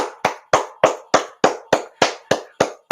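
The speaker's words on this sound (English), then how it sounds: "I think she deserves applause." Applause from a single pair of hands at an interview: about ten sharp, evenly spaced claps over three seconds, close and clear, with no talking.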